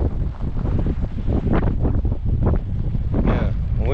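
Strong winter wind gusts at about eight below zero, roaring and buffeting the microphone outdoors in icy conditions, loud and close and continuous throughout.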